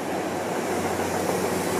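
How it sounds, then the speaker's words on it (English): A New York City subway train rumbles steadily into a tunnel, a loud, continuous roar of wheels and rail noise close by with no voices. "There's your train. There is your train,"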